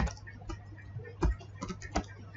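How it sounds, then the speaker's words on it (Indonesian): Code being typed on a computer keyboard during a programming lesson, a quiet run of irregular close key clicks with a couple of firmer taps and no talking. "Kita mulai ngetik aja ya."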